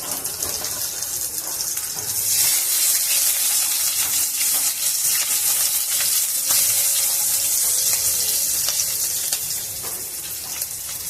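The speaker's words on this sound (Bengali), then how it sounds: "ওই তেলেই দিয়ে দিচ্ছি কালো জিরে ফোড়ন, আর দিয়ে দিচ্ছি 4টে চেরা কাঁচা লঙ্কা" Nigella seeds and slit green chillies hit hot oil in a Bengali hilsa dish, giving a steady, loud, hissing sizzle that swells and holds for several seconds with faint kitchen clatter underneath.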